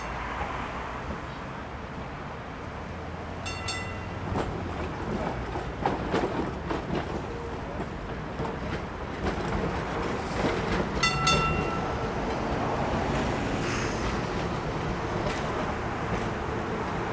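A vintage SW6 Streamliner electric tram built in 1943 runs along a museum tram line, a steady rolling rumble with rattling and metallic clicks that swells toward the middle and stays continuous throughout.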